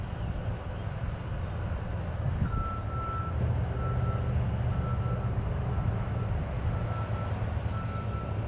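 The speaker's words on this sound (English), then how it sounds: "Another truck coming down this road." A truck passes on a busy road, heard as a low, steady rumble in the distance, with a faint, regular beeping repeating through it.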